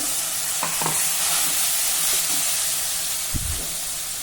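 Water from ground spice paste is poured into sizzling masala for a Vidarbha-style khandoli rassa, producing a loud, steady hiss of steam and frying, with a few scraping stirs close by.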